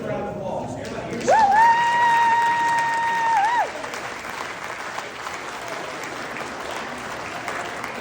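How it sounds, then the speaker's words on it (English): An audience at a team leader summit breaks into sustained clapping, a dense crowd texture with a clear, held whistle-like tone riding over it for a couple of seconds before the clapping carries on alone. "Everybody give them a round of applause."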